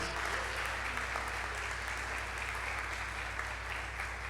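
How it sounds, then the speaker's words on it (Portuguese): A church congregation at a family celebration service claps in a steady, even wash of applause, fairly faint and unbroken for several seconds, over a low hum. "Dá uma salva de palmas para a vida do Henrique aí, irmão."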